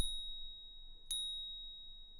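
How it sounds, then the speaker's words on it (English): A bell rings twice in a Max/MSP patch, a clear struck tone followed about a second later by a pitch-shifted delayed copy, both decaying slowly with no voices. "I just want to have my normal bell, and then I want to have my delayed and pitch shifted bell"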